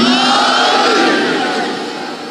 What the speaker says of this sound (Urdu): ہاتھ بلند کر کے بولو نعرے حیدری